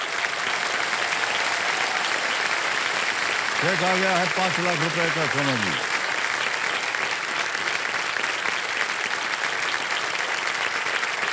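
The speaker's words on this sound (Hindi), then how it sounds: "और ताली बजती रहे।" Sustained studio audience applause on a quiz show, a dense even roar of clapping throughout, with someone speaking over it partway through.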